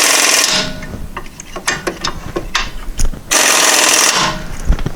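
A ratchet tightens strut bolts on a VW Cabriolet front strut, with two long bursts of rapid close clicking and scattered single clicks and metallic knocks between them.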